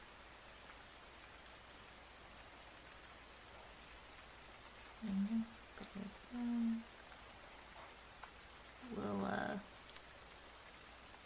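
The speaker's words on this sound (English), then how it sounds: "ooh, the rain is really raining" Rain falling outside, a steady soft hiss of drops on surfaces running throughout, with a few brief bursts of nearby speech over it.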